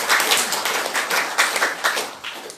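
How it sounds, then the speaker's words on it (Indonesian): A seminar audience for PT Best Eco Racing applauds PTBS, with dense, steady clapping from many hands that holds throughout at a moderate, room-filling level, with no speech over it. "Aplaus dong buat PTBS."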